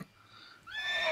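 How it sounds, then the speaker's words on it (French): A second horse neigh plays as a sound effect during a Vampire: The Dark Ages tabletop role-playing session, a short, fairly quiet whinny that rises in the latter half of the brief clip. "Deuxième hennissement."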